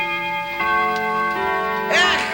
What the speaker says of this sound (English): What scoundrels be ringing the doorbell at this hour?